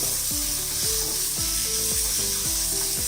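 Ginger garlic paste sizzles loudly in a frying pan with onions, cooked while making veg tacos, and a utensil stirring it in repeated strokes roughly every half second with no talking.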